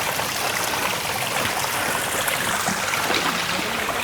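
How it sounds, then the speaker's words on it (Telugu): Steady broadband rush of a hidden waterfall reached on a forest trek at dawn, a continuous near roar of falling water with no break across the clip. "ఆల్రెడీ వాటర్ ఫాల్స్ సౌండ్ క్లియర్గా వినిపిస్తుంది మనకి"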